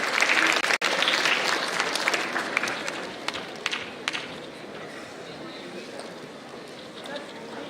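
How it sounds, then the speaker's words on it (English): An audience at an international academic conference applauds, loud dense clapping at first that gradually thins and fades toward the end. "Please give a huge round of applause"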